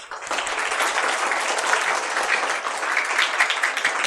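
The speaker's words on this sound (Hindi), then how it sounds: "क्या हम एक बार सबके लिए जोरदार ताली।" A hall audience at a Sunday School anniversary celebration breaks into loud, sustained applause, with dense clapping that holds steady for several seconds.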